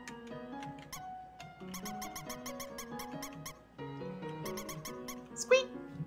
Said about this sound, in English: Squeak! I love this little squeak.